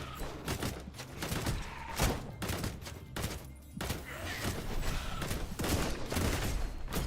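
Incendiary rounds fire in dense, sustained bursts in the Shape of Dreams video game, a loud, continuous rattle of overlapping shots and impacts.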